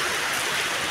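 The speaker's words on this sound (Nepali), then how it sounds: "पानी पुरा परेको छ" Heavy rain pours down in a dense, steady hiss, loud and close, with no other sounds standing out.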